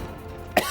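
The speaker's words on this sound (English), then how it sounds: "That made me cough." A single short, sharp cough bursts out near the end after a stretch of low background hum, while playing Metal Gear Solid.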